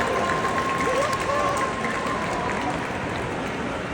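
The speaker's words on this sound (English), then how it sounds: "Let's give him a round of applause for coming up here like that." Crowd applause at a sea lion show inside a large shopping mall, a continuous broad patter of clapping in a reverberant indoor space with a faint tonal whistle or squeal briefly over it.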